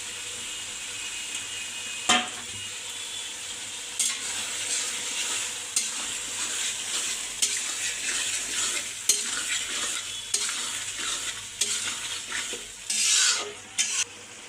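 Stinging catfish are stir-fried in spice paste, with a busy close sizzle and repeated scraping, clattering strokes of a spatula against the pan, louder bursts near the end.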